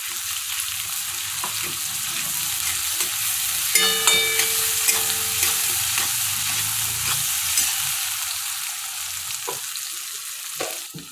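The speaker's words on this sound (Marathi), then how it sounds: "आता यात अद्रक लसूण कोथिंबीरची पेस्ट टाका आणि तीही व्यवस्थित मिक्स करून घ्या" Ginger, garlic and coriander paste being stirred into cabbage in a hot pan, with a steady sizzle of frying and a few scraping clicks of a spoon against the pan.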